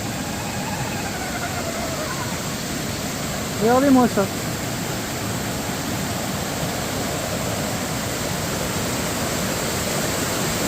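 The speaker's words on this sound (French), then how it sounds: "Et regardez la méga cascade qui descend." The large Creissels waterfall rushes after a flood and a freeze, a loud, unbroken roar of falling water that fills the scene while a person speaks briefly over it.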